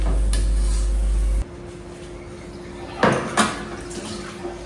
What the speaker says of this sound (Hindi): अब बर्तन वॉश कर लेते हैं